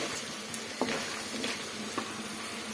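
Cashews fry in oil in a pan for coconut rice, giving a steady close sizzle with a few soft clicks of stirring and no talk.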